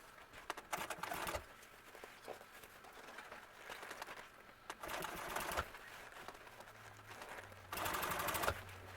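An industrial sewing machine stitches a French seam on upholstery for a 1951 Ford truck seat, running in several loud bursts separated by pauses with quieter handling noise between runs.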